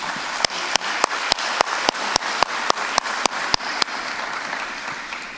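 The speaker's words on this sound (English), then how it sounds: "Let's give you all a round of applause for that effort." Applause from a seminar audience, heard as a run of sharp, evenly spaced claps over a steady spread of clapping, close and fairly loud, stopping abruptly before fading into room tone.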